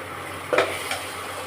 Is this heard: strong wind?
no